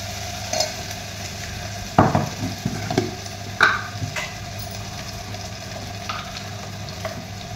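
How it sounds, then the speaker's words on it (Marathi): Onion and tomato sautéing in hot oil in a pan, with a steady soft sizzle under scraping stirs of a spoon and a few louder clunks against the pan near the middle. "आणि आता थोडं कणी खमंग असं तेलामध्ये परतून घ्या"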